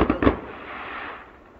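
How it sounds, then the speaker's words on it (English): Fourth of July fireworks show in Jonesport, Maine: two sharp bursts close together, followed by a long rumbling crackle that slowly fades. "neighbors are always setting off fireworks, but this is the 4th of July show"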